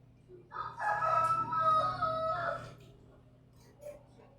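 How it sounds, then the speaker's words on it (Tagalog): A rooster crows once in a loud, drawn-out call lasting about two seconds, close by, followed by quieter background noise and a brief faint cluck. "Manok."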